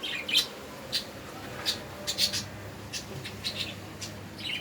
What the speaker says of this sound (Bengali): এই পাখিরা তোরা ঘুমা, চাচাস না